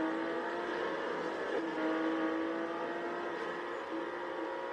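Nissan Skyline engine in the Need for Speed 2015 racing game, a sustained whining drone with gradual pitch sweeps as the car speeds along, fairly faint and steady with no talk.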